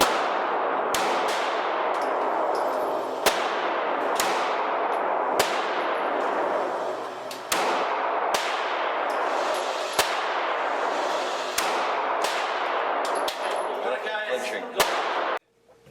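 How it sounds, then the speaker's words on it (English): A Ruger LC9 carry pistol fires at a shooting range: about a dozen loud, sharp shots spaced a second or two apart, each with a quick ringing decay, over a constant background hiss. "the Ruger LC9, a really good carry pistol, and you know, a decent range pistol"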